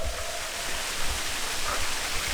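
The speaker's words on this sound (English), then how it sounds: "But we have finally arrived at the waterfall." A massive waterfall on Hawaii roars as a steady, dense broadband rush, loud and unbroken throughout, with no voices over it.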